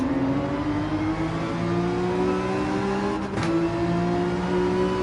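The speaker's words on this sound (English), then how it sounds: "Over rev, error on my part." A Gran Turismo 7 race car engine, heard during a race on the Deep Forest track, drones loudly and steadily at high revs near the limiter, with a brief stutter partway through before the whine resumes.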